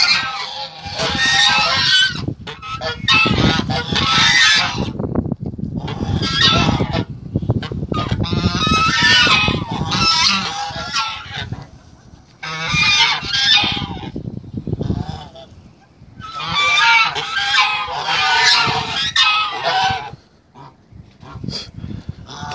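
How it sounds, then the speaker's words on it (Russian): A flock of geese honking and cackling loudly outdoors, close and raucous, in repeated noisy bursts with short lulls between them. "Как они кричат,"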